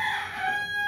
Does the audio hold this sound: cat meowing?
no